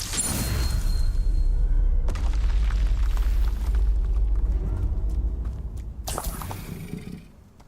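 A Confringo spell explosion in the Hogwarts Legacy video game, a loud sustained roaring boom with deep rumble that swells early, carries on for several seconds with crackling debris, and fades out near the end.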